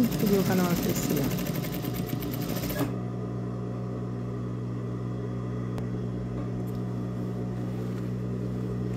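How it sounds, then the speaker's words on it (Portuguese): A domestic sewing machine stitches darts on a lined Barbie doll skirt, whirring loudly and close for about three seconds before stopping, leaving a quiet room hum. "E enquanto eu costuro a minha pence"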